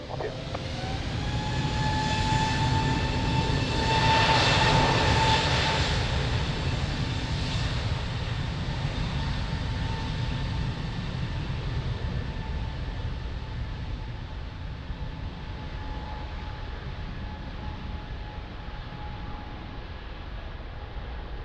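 An airliner roars through its takeoff from runway 02 at Lisbon Airport, a loud, broad jet engine rumble with a steady whine that peaks early and then slowly fades as the aircraft moves away.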